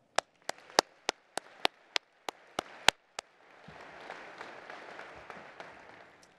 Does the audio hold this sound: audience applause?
yes